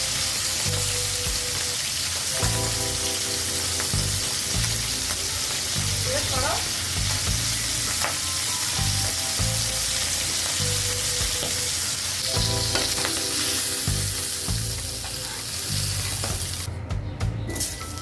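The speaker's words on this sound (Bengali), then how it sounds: "এবার আলুগুলো ভেজে নিচ্ছি।" Potatoes frying in a pan for a Bengali fish curry with amaranth stems, a continuous loud sizzle with occasional scraping stirs, and a few brief clinks near the end.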